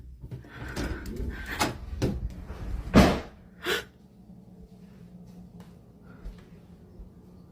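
Kitchen cabinet doors banging in a quiet house early in the morning, several sharp knocks and thumps, the loudest near the middle, followed by a faint rustle and low room hum.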